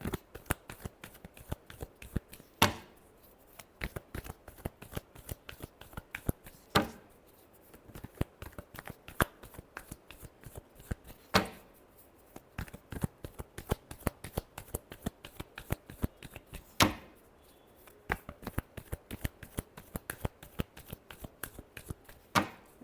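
A deck of cards is shuffled over and over during a tarot reading, crisp riffling bursts and flicks in a quick irregular rhythm, close and fairly quiet with no voices.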